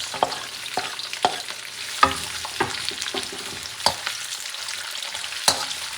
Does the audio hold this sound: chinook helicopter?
no